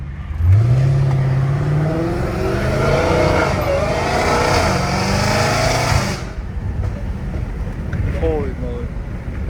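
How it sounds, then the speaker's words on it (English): A loud Hellcat Redeye with a straight-piped titanium catback exhaust revs hard and drones through acceleration, rising in pitch, then drops off as wind noise and road rumble continue. "I still can't believe this car is straight pipe."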